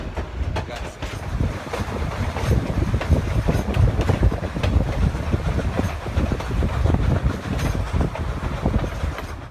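Heritage mining train chugging along the Animas River toward Silverton, Colorado, a steady loud rumble with rhythmic clickety-clack of wagons on rails and wind noise, continuous throughout with no talking.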